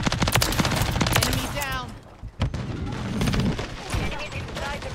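Rapid automatic gunfire in the video game Call of Duty: Modern Warfare 3, with dense bursts of shots and explosions under loud talk from players.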